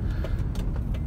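A Ford Expedition with a Triton engine and four-speed automatic transmission drives along steadily, its engine and road noise a continuous low rumble with faint rattles, heard from inside the cabin.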